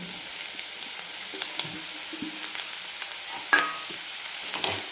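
Potato pieces fry in hot oil with turmeric, making a quiet, even sizzle throughout, with a few small clinks and stirring scrapes near the middle and near the end.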